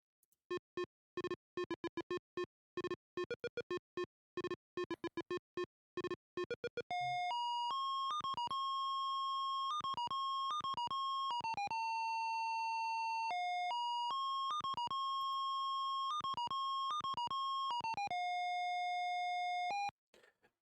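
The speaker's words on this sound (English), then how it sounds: "So, PC speaker beeper. All it could do was one note at a time." A PC speaker beeper plays music from the Sierra game Space Quest I, one note at a time: rapid staccato square-wave blips give way to sustained, piercing, steady-pitched tones that step between notes, loud and with no talking.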